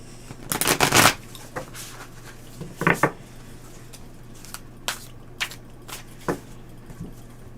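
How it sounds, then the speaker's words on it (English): Tarot cards riffle-shuffled close up: one long crisp burst, then a shorter riffle, followed by several single soft card snaps spaced apart. "One more shuffle."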